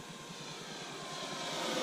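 An FMS F4U Corsair RC model plane makes a high-speed run, its steady electric motor and propeller whine rising gradually in loudness as it approaches, alone with no talk.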